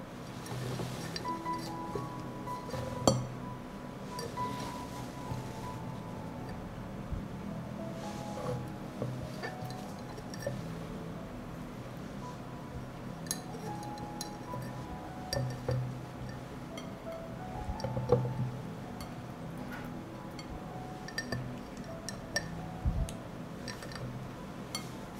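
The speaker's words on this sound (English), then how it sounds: "I arrange tomatoes in jars." Glass jars clink softly and intermittently as tomatoes are arranged inside them, with scattered light taps and knocks over a quiet room background and no voices.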